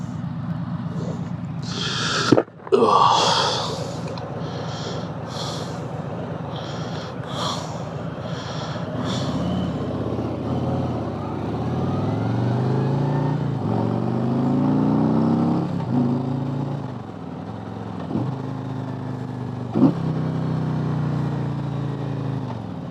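A Harley-Davidson Road Glide Limited with a 114 engine rumbles along at speed, its exhaust note rising and falling through gear changes under steady wind noise, close and continuous, with a few sharp breathy bursts early on.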